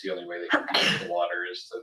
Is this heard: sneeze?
yes